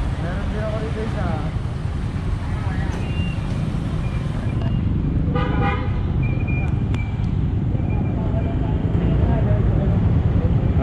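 A convoy of tricycles rolls past on a busy road near the Quezon City–Manila boundary, engines droning steadily with several short horn toots around the middle, while a person talks over the traffic.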